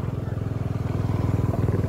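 A motorcycle engine idles close by with a steady, low pulsing throb while being parked at a waterfall bathing spot near Padang, continuous for the whole stretch with no talk over it.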